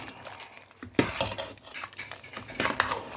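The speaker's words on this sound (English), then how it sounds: "And then you stir it" Chicken keema being stirred in a pan, utensil scraping and clinking against the metal in quiet, irregular strokes, with a sharper clatter near the one-second mark.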